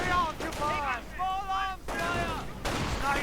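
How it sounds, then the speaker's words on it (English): Sniper rifle shots ring out on both sides in a 1v1 war strategy video game, with a few sharp cracks heard under steady, close commentary. "More sniper fire from both sides."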